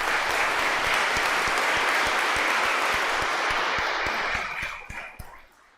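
A church congregation gives sustained, loud applause for the children at an Easter Vigil service, a dense wash of clapping that holds steady and then thins out and fades toward the end.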